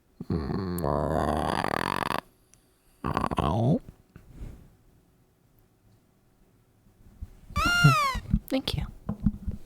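A human voice mimics a cat, with drawn-out, wavering meows split by silent gaps, followed by a short, bright meow and some scattered talk.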